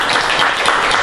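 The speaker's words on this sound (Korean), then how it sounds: "박수로 마치겠습니다." Loud, dense applause from a crowd closes a joint press conference held by political parties and civic groups. The clapping is steady and continuous throughout, with no speech over it.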